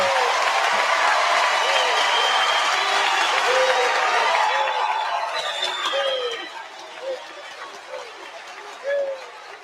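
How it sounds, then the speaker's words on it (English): A crowd's loud cheering and clapping fades over several seconds into scattered applause and murmuring voices, with a few isolated claps and shouts toward the end. "Crowd goes wild."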